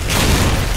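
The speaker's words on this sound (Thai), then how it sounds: "ปาระเบิดไปครับผม" A grenade explodes in the online shooter Special Force, a short, loud, bass-heavy boom that fills the whole moment.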